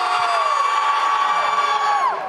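Esports arena crowd at a Valorant match, Karmine Corp versus Gentle Mates, cheering and screaming in a sustained loud roar with a piercing high whistle-like tone running through it, fading slightly at the end.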